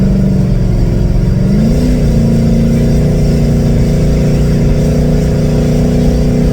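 A C6 Corvette engine revs loudly under acceleration, its steady droning tone climbing in pitch partway through and then holding a sustained high-powered roar, close and continuous.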